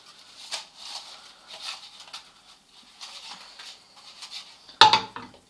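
Banknotes and glasses are stirred in a cooking pot, giving soft repeated clinks and scrapes at an uneven rhythm that stay quiet and close, followed by one sharper, louder clatter near the end.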